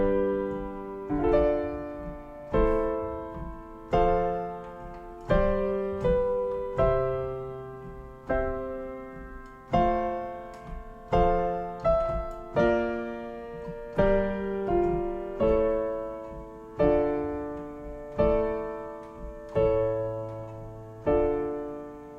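A keyboard plays a figured bass chord progression, roughly seventeen steady block chords struck one after another with a full bass line beneath, each ringing briefly before the next, with no one speaking.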